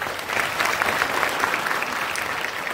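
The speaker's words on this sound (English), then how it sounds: "Give a round of applause." An audience applauds a physics professor being introduced during a visit to a science institute, a moderate, even round of clapping lasting under three seconds.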